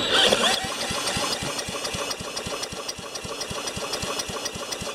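A Tecumseh 3.5 HP lawn mower engine fires and runs with a steady, rapid knocking beat. It follows a louder, messy start, is close and fairly loud, and has no talk over it.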